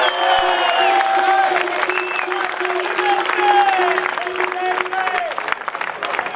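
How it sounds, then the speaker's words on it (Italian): Crowd applause at a skyrace award ceremony, sustained dense clapping from an outdoor audience with a few whoops, while a voice talks over it and tonal music or a whistle-like tone runs underneath. "Un applauso anche per Enrico."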